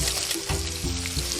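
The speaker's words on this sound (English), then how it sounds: "using the same pan, we're going to put in our minced garlic" Minced garlic and onion frying in oil in a pan, a steady close sizzle with crackling texture running continuously, with low hum and faint clatter underneath.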